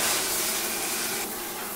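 Water rushing steadily from a shower after its valve was cleaned, a constant close hiss of spray that eases slightly toward the end, with no talk.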